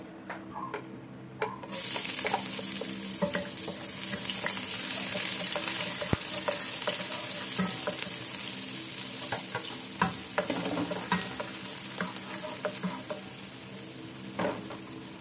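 Sweet potato (kamote) slices fry in oil in a pan, giving a steady, fairly loud sizzle with occasional crackles and light clicks of stirring throughout.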